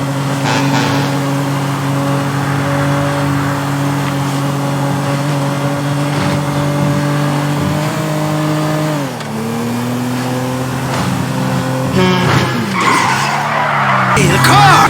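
Car engine revving and tires skidding in a video game, a loud sustained engine drone that dips in pitch and surges again, with tire squeal and music in the background.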